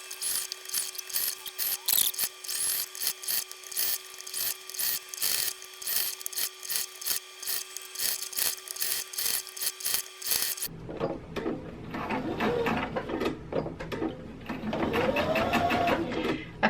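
A sewing machine stitches flannel fabric for a shirt refashion, its rapid rattling run steady and close for about ten seconds before giving way to a different, busier stretch of handling noise.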